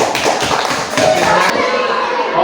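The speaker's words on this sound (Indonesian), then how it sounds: "tepuk tangan buat kelompok 1" A classroom applauds group 1 with quick, close hand claps for about a second and a half before they stop, with voices around.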